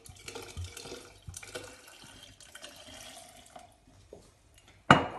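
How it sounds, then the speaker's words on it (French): Water poured from a bottle over lemon quarters for lemon kefir, a light splashing trickle that comes in short uneven bursts with brief pauses, close and fairly quiet, then a sudden loud splash right at the end. "Je verse le reste de l'eau de ma bouteille."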